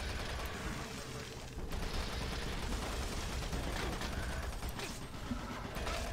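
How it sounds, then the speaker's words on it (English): Enemy gunfire in the DOOM 3 video game, a dense continuous rattle of shots with steady loudness throughout, a brief dip partway, alone without talk. "He distracted me with his gunfire, making my screen oscillate"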